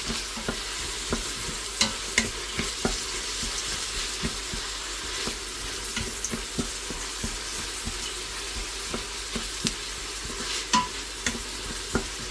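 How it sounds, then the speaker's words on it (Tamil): Onions with a pinch of salt sautéing for mutton curry, a continuous close sizzle with a regular rhythm of spoon scrapes and taps against the pot throughout, no voices. "சீக்கிரமாக வதங்கிறதுக்கு லைட்டாக ஒரு பிஞ்சு உப்பு போட்டு நல்லா வதக்கிக்கோங்க."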